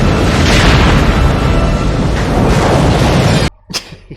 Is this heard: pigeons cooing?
no